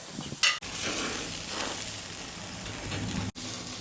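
Juicy Lucy burger patties sizzle steadily on a BBQ grill over a fire of about 400 degrees, a continuous close frying hiss with a brief sharp crackle early on and no talking.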